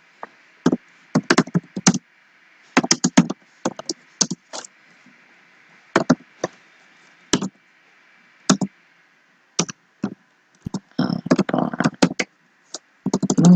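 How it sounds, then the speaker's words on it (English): Typing on a computer keyboard while testing PearOS: scattered bursts of crisp key clicks, close and dry, separated by silent pauses, ending in a faster flurry of keystrokes. "okay, look, let's type in."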